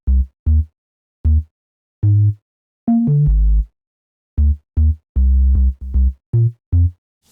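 A pitched-down, driven synth bass plays short staccato notes with a sharp, pick-like attack and quick decay, in an irregular rhythmic pattern with gaps of silence, close and alone.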